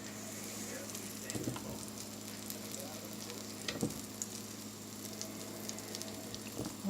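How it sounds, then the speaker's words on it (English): Pumpkin sizzles steadily in a well-greased pan, a close, continuous crackling hiss with occasional soft knocks of a utensil. "here's what it looks like while it's cooking."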